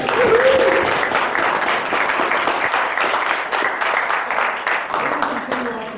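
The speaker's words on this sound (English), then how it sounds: "round of applause for the man" A crowd applauds steadily with dense clapping that fades a little toward the end, and a voice briefly sounds at the start.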